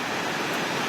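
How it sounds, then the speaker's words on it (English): Surf at the beach heard from someone standing in the water, a steady broad wash of breaking waves close by with no voices. "I'm literally standing in the water here at the beach."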